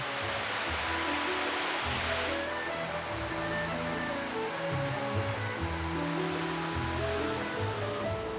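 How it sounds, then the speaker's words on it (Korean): Three-tiered Gongsan waterfall in Chisan Valley running with heavy flow after plenty of water, giving a loud, steady, close roar of falling and splashing water with no talking. "이 3단으로 떨어지는 폭포가 특히 오늘은 또 수량이 풍부해서 낙차도 굉장히 크고 그리고 사운드가 지금 엄청납니다."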